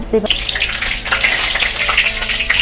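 Hot oil sizzles and spatters loudly in a pan during chicken curry cooking after a wet spatula goes in, a dense crackling hiss that holds steady, close and continuous.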